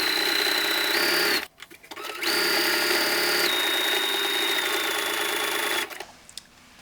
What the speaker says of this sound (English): we're gonna sew the buttonholes on the front waistband